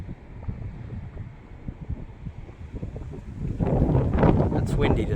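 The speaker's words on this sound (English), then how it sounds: "It's windy today, but on a beautiful day it's nice." Gusty wind buffets the microphone in a rumbling roar at a high vantage point near Centennial Park in Sydney, swelling louder toward the end with no talk over it.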